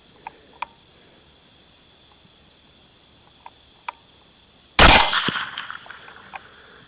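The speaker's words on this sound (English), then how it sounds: "I think I'll just go ahead and shoot it" A single loud rifle shot fired at a hog in the field, a sharp blast with a trailing echo that fades over about two seconds, preceded by a few faint, isolated clicks and ticks in a quiet outdoor setting.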